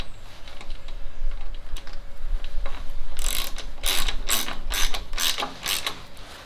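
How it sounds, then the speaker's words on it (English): Spanner nipping up a front suspension bolt during final assembly, heard as a run of sharp ratcheting clicks in quick bursts over the last three seconds, close and fairly loud, preceded by quieter handling noise. "And then get the spanner. And so we just nip it up now."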